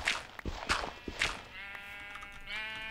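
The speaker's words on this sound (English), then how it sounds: "There's a lot of sheep over here," Several sheep bleat in Minecraft, a few short nasal cries close by in the first half, with faint footstep-like taps and a steady harmonic game tone underneath later on.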